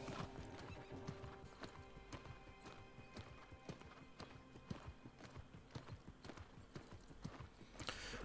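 Horse hooves clip-clop steadily and rapidly as a horse is ridden in the New World video game, with a dense, even rhythm of hoofbeats over a constant background wash, close and fairly loud.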